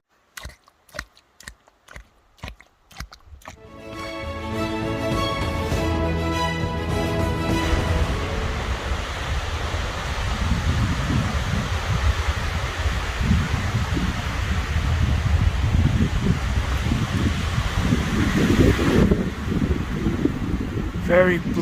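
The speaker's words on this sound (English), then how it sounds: "Very blustery today." Strong gusty wind roars steadily across an Appalachian Trail mountain peak, buffeting loudly and growing stronger after a few seconds of clicking and a short tonal sound at the start.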